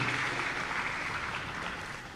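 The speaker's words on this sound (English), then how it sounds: "Big round of applause for all these representatives." Audience at a Gujarat state formation day celebration applauding community representatives, a short burst of dense clapping from a crowd that tapers off slightly over two seconds.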